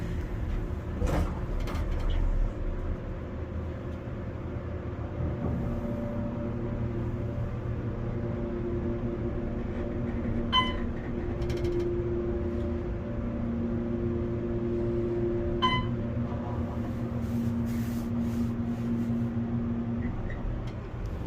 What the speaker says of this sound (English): We'll do one more ride, but I want to hear the motor this time.